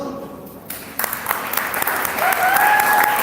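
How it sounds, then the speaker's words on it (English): Audience applause at a hackathon event, beginning at a moderate level and swelling into sustained clapping from a crowd, with a brief whistle-like tone near the end. "Please give a big round of applause for yourselves."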